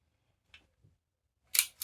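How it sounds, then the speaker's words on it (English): Two faint mechanical clicks followed by a sharper, brighter shutter snap near the end from a Brownie Hawkeye Flash Model camera, in otherwise quiet surroundings. "Shutter still works."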